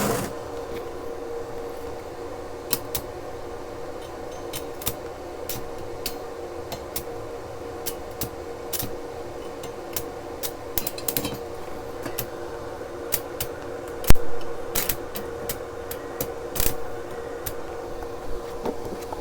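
Stick welding a bead with a 2.5 mm electrode at about 85 amps on a budget Topshak TS-EM1 250A multiprocess welder, a steady frying crackle with frequent sharp pops and snaps, close and continuous.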